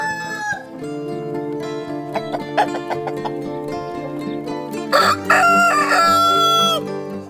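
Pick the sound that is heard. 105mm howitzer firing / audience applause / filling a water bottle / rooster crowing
rooster crowing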